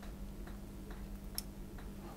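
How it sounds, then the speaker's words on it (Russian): A perpetual calendar watch mechanism ticks softly and evenly, with one sharper, brighter click as the date wheel advances, all very quiet and close. "колесо даты вперед. и так произошел один щелчок, дата перешла на одно положение"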